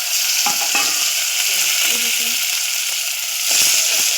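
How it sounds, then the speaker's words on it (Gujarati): Chopped elephant foot yam (suran) is tipped into a pan with fried garlic and chilies and sets off a loud, steady, close sizzle. Faint stirring clinks and brief background voices sound under the hiss. "તો ચલો સુરણનું શાક નાખી દઈએ।"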